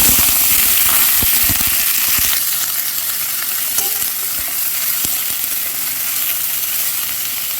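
Chopped onions and green chillies drop into hot oil in a frying pan for a chicken liver dish, setting off a loud, close, steady sizzle with scattered sharp crackles and spatters.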